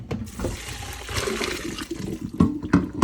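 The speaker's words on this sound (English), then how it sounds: "All right, this is done now, so I'm gonna strain it." Hot water from cooked spaghetti is poured out through a strainer in a home kitchen, a steady watery rush and splash with a few clunks of the pot near the end, close and moderately loud.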